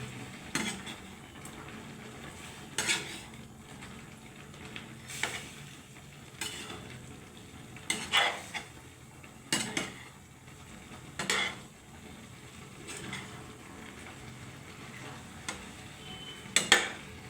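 Chicken sukka masala stirred in a pan, a spoon scraping and clinking against the metal in irregular bursts over a faint background sizzle, close and moderately loud with no voices.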